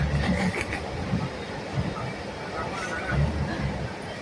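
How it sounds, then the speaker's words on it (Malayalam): A train rolls backward along the rails with a steady low rumble, rhythmic clanks and creaking from the carriages, while muffled voices murmur underneath. "ട്രെയിൻ പുറകോട്ട് പോകുന്നു"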